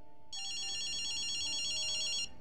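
A phone rings inside the video game Ghostwire: Tokyo. The ring is a steady, bright electronic tone that keeps going for about two seconds and then stops. It is clear and sounds close, over a quiet background.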